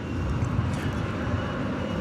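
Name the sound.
United plane taking off at DFW Airport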